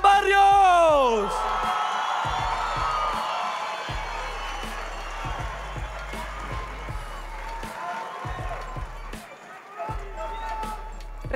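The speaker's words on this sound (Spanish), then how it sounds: "Recibamos con un fuerte aplauso a Cristian Barrios." Crowd cheering and whooping at a football squad presentation, a loud burst of voices at the start that settles into a sustained murmur, with an announcer speaking over the noise.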